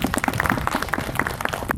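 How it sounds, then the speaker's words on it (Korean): At a memorial hall opening ceremony, a small gathering claps to welcome the city mayor, scattered, uneven handclaps close by, brief and moderately loud. "박수로 맞아주십시오."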